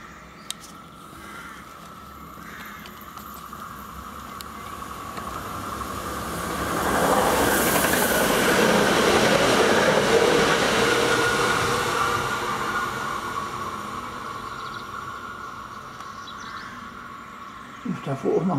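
A train rushes through a rural station in the evening, building from a distant rumble to a loud roaring pass and then fading away, with faint talk at the edges.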